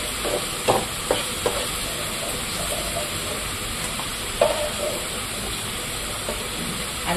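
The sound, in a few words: fish frying in oil in a pan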